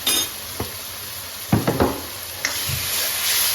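Cumin and spices fry with tomato in a pan for aloo gobi, giving a steady close sizzling hiss with a few soft clinks and stirring knocks from a utensil against the pan.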